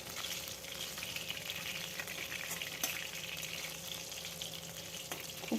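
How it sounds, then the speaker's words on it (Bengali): Katla fish pieces sizzle and crackle steadily in hot oil over a medium gas flame, a continuous close frying hiss with small pops and no talking. "এইভাবে আমি উল্টে পাল্টে ভেজে নেব সবগুলো মাছ"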